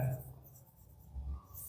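A pen scratches briefly across paper while someone writes out a maths problem by hand, the faint strokes close by and a voice present at moments.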